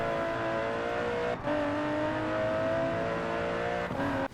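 A sports car accelerates hard on a test track and oversteers through a corner, its engine holding a loud sustained high rev with a brief dip at a gear change, close by, with no voices.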